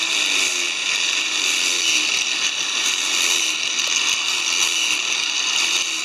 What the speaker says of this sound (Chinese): 这个磨就要两边一起磨了